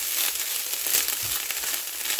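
Party fried rice sizzles in hot oil in a pot, a steady close crackle and hiss with no voices over it.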